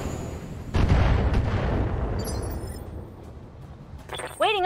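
Mech weapons fire rounds in Battletech with a heavy booming volley that rolls and decays over a couple of seconds. A second sharp burst arrives near the end alongside electronic interface chirps.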